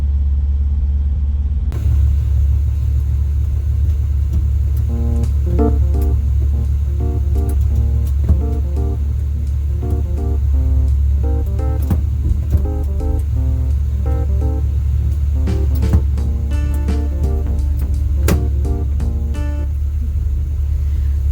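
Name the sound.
1957 Chevy car driving on road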